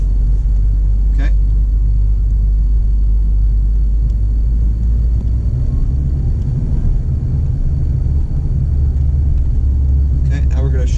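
A manual car pulls away in first gear with the clutch released, its engine a steady low rumble close by while a driver talks over it.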